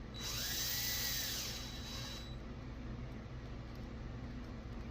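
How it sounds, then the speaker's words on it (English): A close, high-pitched whine of a power drill running for about two seconds while setting up an Arrma Typhon RC car, then cutting off to leave a low background hum. "Now what I'm going to do, this is my drill."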